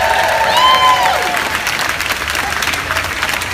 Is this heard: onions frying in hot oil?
no